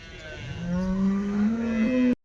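HF or Jersey dairy cow at a weekly cattle market in Punganur, one long loud moo rising in pitch for about two seconds, close by, ending abruptly.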